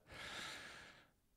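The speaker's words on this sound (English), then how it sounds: "Take a deep breath." A single slow, deep breath drawn in close to the microphone, a soft airy rush lasting about a second before fading, with nothing else around it.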